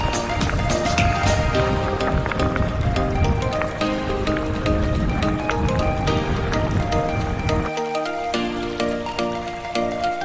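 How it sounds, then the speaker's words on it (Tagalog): Rain comes down while riding along the NOVELEX Manila Cavite Bypass Road. A dense, steady patter and hiss of drops runs throughout, close and fairly loud, mixed with the rumble of travel and no talking. "inabot tayo ng ulan"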